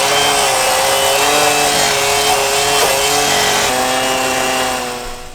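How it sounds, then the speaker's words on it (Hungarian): An enormous angle grinder cuts through a railway rail on track construction in the Arctic Circle. It gives a loud, steady, harsh whine with shifting pitched tones for several seconds, then tapers off slightly near the end. "Most elvágják, és itt nézzétek ezt a gépet!"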